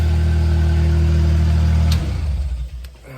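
A Skyjack SJ7127 scissor lift's small engine idles steadily and loudly, then is shut off about two seconds in, its rumble sputtering and dying away.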